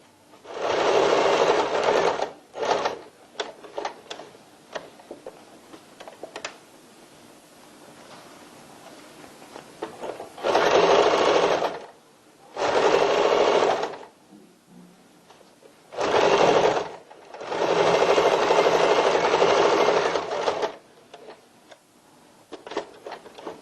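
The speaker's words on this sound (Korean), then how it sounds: "노루발시적으로 박음질 해주세요." A domestic sewing machine stitches a pocket onto a tote bag in several loud, whirring bursts of rapid needle chatter, separated by quiet pauses with small clicks and handling of fabric.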